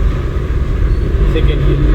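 Driving-school car pulling away as the clutch is released and the accelerator pressed lightly, a loud low engine rumble heard from inside the cabin with an instructor talking over it.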